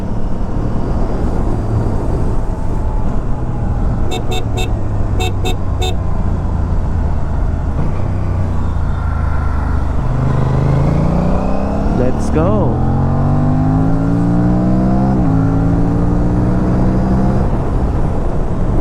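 Aprilia RS 457 motorcycle fitted with a DNA air filter, its exhaust droning steadily and loud up close, then rising in pitch through several revs and gear pulls in the second half, with a brief voice over it.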